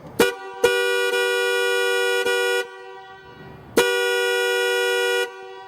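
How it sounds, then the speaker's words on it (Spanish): A car horn sounded through its relay during an electrical circuit test honks in two long blasts of about two and one and a half seconds. Each blast is loud, steady and close, with a brief tap in the middle of the first. "ese relay que estamos probando es el circuito del claxon. Entonces active el horn, déjelo activado."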